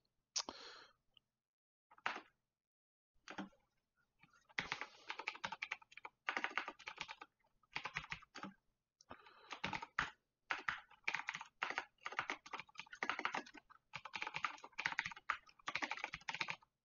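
Fingers type on a computer keyboard in irregular bursts of crisp key clicks, close and fairly quiet, with short pauses between runs and no talking.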